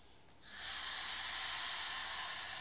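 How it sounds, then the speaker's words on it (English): A long open-mouthed "ha" exhale from yoga breathing practice, a breathy hiss that starts after a short quiet moment and holds steady and fairly loud to the end, close to the microphone. "It's easiest to practice this by making the ha sound with an open mouth on an exhale."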